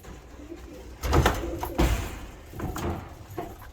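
Low, soft cooing from several young pigeons nearby, in a few rounded bursts with brief pauses between, alongside faint shuffling.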